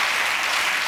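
Studio audience applause on a television chat show, a short burst of dense, even clapping filling the moment, fairly loud with no voices over it.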